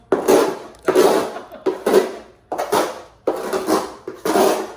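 A box knife scraping and hacking at a carbon fiber car wing in repeated bursts, six or so strokes with short pauses between them, close and fairly loud with a gritty, scratchy texture and no talking.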